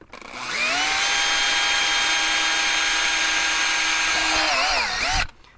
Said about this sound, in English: I'm gonna drill a pilot hole with a really small bit